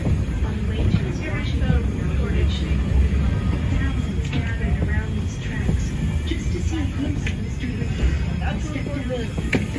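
Train No. 89 pulls into Paradise station on its 12:00 run, a steady low rumble of rolling wagons and rail noise filling the whole stretch, with people talking nearby over it.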